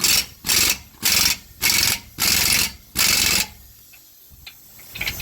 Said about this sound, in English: It's going to take a 15/16 socket deep well and just easy break them off